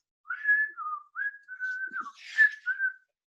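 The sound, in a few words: whistling a tune, storyteller imitating old lady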